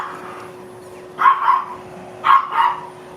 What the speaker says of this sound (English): That's the little Yorkie.